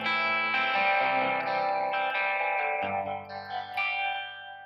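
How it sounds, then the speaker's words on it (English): An electric guitar played through an amplifier picks a light arpeggio pattern, with sustained overlapping notes ringing together, a slightly broken-up tone and soft pick attack over several seconds. "if I can pick an arpeggio pattern nice and light"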